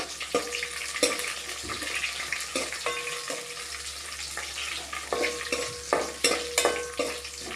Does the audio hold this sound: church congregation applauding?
no